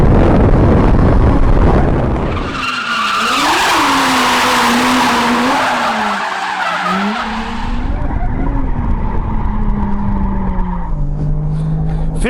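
A drift car at Ebisu Circuit in Japan, set up with drift suspension, roars past loud and close with a revving engine and long screeching tire skids, with no talking.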